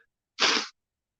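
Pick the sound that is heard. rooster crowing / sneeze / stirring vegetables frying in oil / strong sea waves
sneeze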